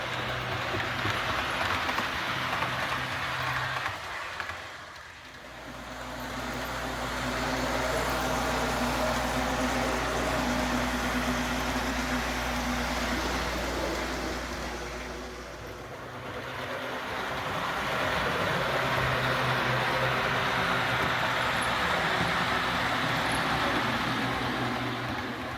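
An IHC model train pulling three passenger cars runs at speed, a steady rolling rumble and clatter of wheels on track that swells and fades as it passes, with a low hum in the middle stretch.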